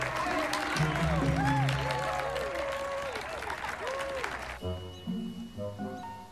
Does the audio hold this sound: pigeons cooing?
no